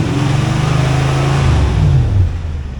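Japanese-built 2UZ-FE V8 in a 2001 Lexus LX470 running close by, a steady low engine drone with a slight pitch rise then settling.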